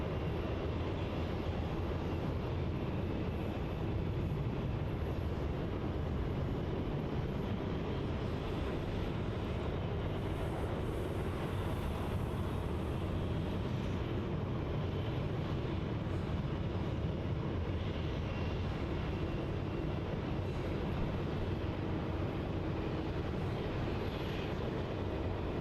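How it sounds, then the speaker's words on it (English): A Qantas Boeing 737-800 on final approach at Melbourne Airport produces a steady, broad jet engine roar that holds at an even level for the whole stretch, moderately distant and without talk. "Next on final now is QF611 from Brizzy, the Boeing 737-800."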